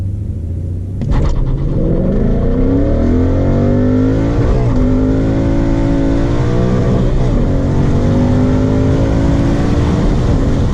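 A 2015–2017 Ford Mustang fitted with the Ford Performance Power Pack 3 launches hard from a stop with traction control off, its engine erupting into a loud, close roar whose pitch sweeps upward through the revs and gear changes.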